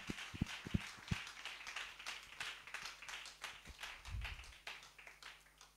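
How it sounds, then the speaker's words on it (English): A church congregation claps in rhythm, sharp hand claps ringing out close at first, then settling into a steady, softer pattern of clapping with a faint murmur underneath. "Clap for Jesus."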